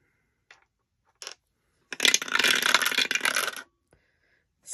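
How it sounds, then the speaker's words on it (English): Two dice rolled by hand for a home savings game rattle and clatter loudly across a hard surface for about a second and a half, after a few small close taps, with no talking. "Roll 1 or 2 or more dice, write the amount in the cloud, and save that amount."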